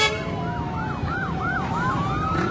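A fire truck siren wails at a fire in Quezon City, a loud, rapidly rising and falling whoop repeating several times over steady road noise, heard alone without talk.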